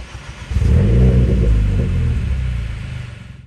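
A Renault Clio 4 RS engine rumbles as the car pulls away, a low steady drone that swells after a quiet start, holds for a few seconds, then fades out near the end.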